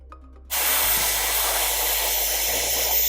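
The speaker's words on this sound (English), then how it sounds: "the final thing that I like to do is I like to seal it with a tiny bit of hairspray" Hairspray sprayed onto the lace of a wig, a sudden loud continuous hiss that starts after a brief quiet moment and holds steady, close and alone.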